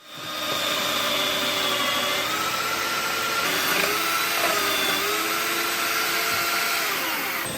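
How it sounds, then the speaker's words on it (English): A shop vacuum running in a stair maker's woodshop, switching on with a rising whine and then holding a loud, steady suction roar up close until it begins winding down at the end. "Just hit a button anytime I need and vacuum this in from the end."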